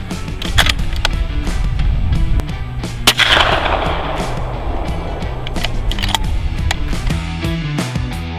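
A Remington 700 rifle firing 8.6 Blackout rounds through a YHM Bad Larry .338 suppressor gives a single muffled, sharp crack outdoors, with a brief burst of noise and steady background rumble around it.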